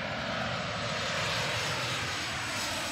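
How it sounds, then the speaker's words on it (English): Airplane engine drone during a flight, a steady, loud broadband roar with low rumble that stays constant throughout, with no voices. "Here I am on a plane, going back to New York"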